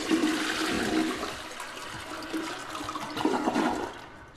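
Toilet flushing in the Bendy and the Dark Revival video game, a loud rushing gurgle of water that surges, eases, swells again near the end and then drains away to quiet.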